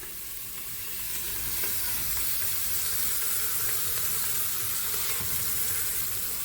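Pieces of beef brisket sizzle and hiss continuously as they brown in a pot, with a steady frying crackle and occasional stirring throughout.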